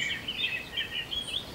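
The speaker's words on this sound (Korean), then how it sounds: "그러면서 참새들이 짹짹하는 소리에 잠을 깨고" Sparrows chirp in the morning in a countryside village, a quick run of high, thin twittering calls over a soft steady background.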